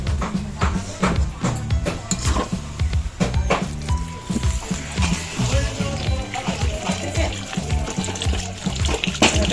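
Water is poured and splashed into a cooking pot during a Bengali home cooking session, with close, uneven trickling, sloshing and knocks against the pot, and some faint background voices.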